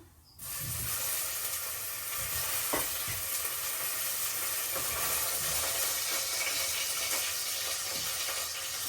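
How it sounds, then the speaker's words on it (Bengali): Cumin seeds and potatoes hit hot oil in a pan for a fish curry, bursting into a loud, steady hiss and sizzle that continues evenly after a brief quiet start, with no one speaking. "মাছের তরকারিটা বসাই দিই দিয়ে দিলাম জিরের ফোড়ন যে আলুটা দিয়ে দিলাম"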